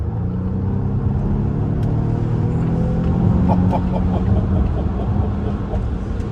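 A 2021 Volvo XC60 T8 Inscription plug-in hybrid SUV accelerating hard, a steady rising drone of engine and road noise heard from inside the cabin, loud and continuous, with no talk over it.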